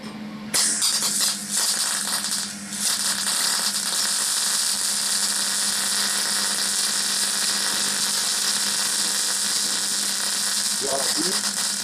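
A MIG/MAG welding torch runs as the wire feed speed changes, giving a continuous loud, harsh buzzing crackle with a steady hum and brief shifts in tone near the start.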